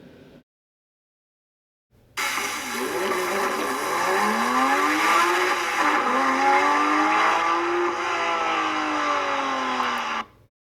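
A Porsche 911 GT3 of the 991 generation revs its engine, with exhaust roar rising and falling in long sweeping pitch changes. The sound is loud, close and continuous for about eight seconds, with no talk.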